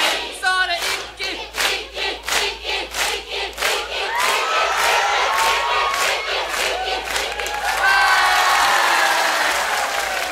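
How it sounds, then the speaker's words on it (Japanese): A Japanese party crowd chants a rhythmic drinking call in unison, with steady pulsing shouts for several seconds before dissolving into a loud, sustained mass of cheering and yelling. "意気コールお願いします。"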